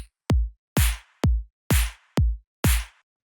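Electronic drum pattern in a PC Music style track: six sharp, evenly spaced hits alternating deep booming kicks and bright noisy snare-like claps, each decaying quickly into silence, close and dry with no voices.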